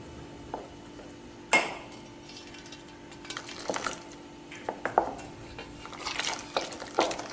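Mango pulp being stirred with warm sugar syrup, a spoon scraping and clinking against a metal vessel in sporadic light taps and strokes, fairly close and quiet with no talking.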